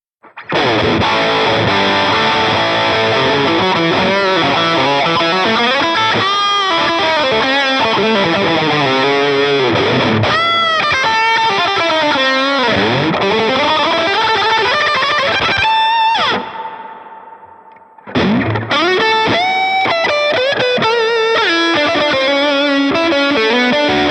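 Distorted electric guitar lead plays continuously through a PRS Archon amp preset on a POD Go, with shimmering dimension chorus, echoing delay and hall reverb, pausing briefly near the end before resuming.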